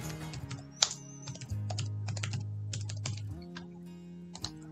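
Computer keyboard keys tapped in quick irregular bursts with short pauses while a name is entered, close and clear over a steady low hum.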